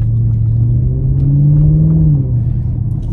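Audi RS5 engine running close by, a deep steady rumble that rises slightly in pitch and then drops back, with no voices.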